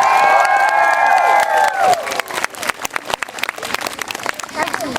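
A crowd at a bicycle stunt display cheers and applauds, with loud whoops at first and then scattered clapping and shouts that continue near and lively.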